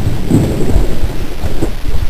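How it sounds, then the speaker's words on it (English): Thunderstorm with heavy rain: a dense, loud wash of falling water and low rumbling, steady and close over a couple of seconds. "It was a storm."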